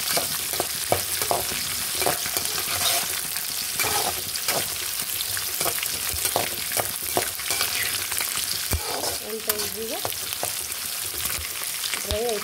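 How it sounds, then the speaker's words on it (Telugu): Ingredients sizzle and fry steadily in a pan, with dried red chillies among them, as a spoon stirs and scrapes at intervals throughout; no one speaks. "చూడండి, ఇవి కూడా బాగా వేగుతున్నాయి."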